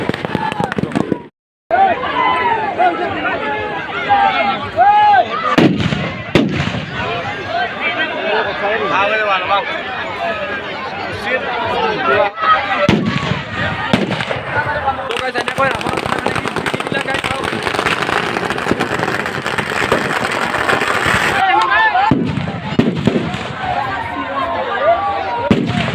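Firecrackers and fireworks burst at an outdoor Ravan Dahan festival in a dense, rapid, continuous crackle and popping, loud and close, with crowd voices and shouting mixed throughout.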